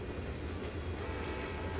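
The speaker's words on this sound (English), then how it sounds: "That's the passenger train making that." Steady rumble of a passenger train in the Trainz 2022 railway simulation, with a coal country setting and slag cars nearby, heard as continuous rolling noise with a faint horn tone over it, alone.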